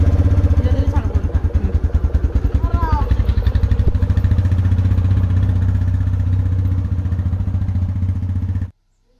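Motorcycle engine idling steadily after starting, with a rapid rhythmic low putter that continues close and loud until it cuts off near the end, while a person talks over it.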